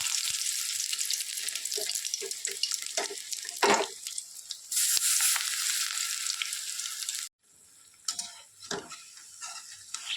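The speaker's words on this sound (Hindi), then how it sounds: "तो चलिए अब इस पैकेट को हम अब फ्राई कर देते हैं।" A battered bread roll stuffed with pizza-style filling deep fries in hot oil, a bright bubbling sizzle with a few clatters, fading to a quieter hiss after an abrupt drop near the end.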